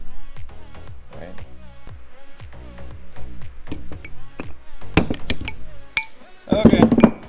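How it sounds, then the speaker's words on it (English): Repeated hammer blows drive a bearing into the spindle of a Grasshopper 718 mower, up close. A long run of sharp metallic strikes lands at an uneven rhythm, growing louder and denser toward the end. "Okay, I've hammered this in."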